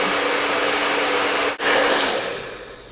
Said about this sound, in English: I'm going to put my blow dryer right on that